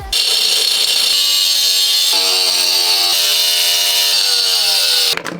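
A power cutter slicing across a metal disc set in a van floor, a loud, sustained high-pitched whine with shifting tones as the blade bites, stopping abruptly near the end.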